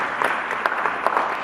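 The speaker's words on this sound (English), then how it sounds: "you can clap for that" Audience members at a conference applaud after a speaker's remark, giving a short, steady round of clapping with a few sharper individual claps standing out.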